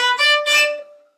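A Quebec-style fiddle plays two short bowed strokes in the same direction in quick succession, bright and close, the second note sustaining briefly before fading.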